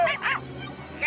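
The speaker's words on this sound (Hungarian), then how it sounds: "milyen édesen ugat." A toy dog in a cartoon gives a couple of quick high yips, then another starts at the end, close and fairly loud in a short burst.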